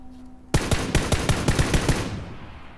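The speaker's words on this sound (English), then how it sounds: "Oh, he was shooting somebody." Automatic gunfire in the video game PUBG, a sudden burst of about a dozen rapid sharp shots in quick rhythm that then stops, fairly loud against a quiet background.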